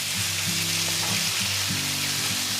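Beef stir-fries in a hot pan over high heat, a loud continuous sizzle with a low steady hum beneath it and no talking.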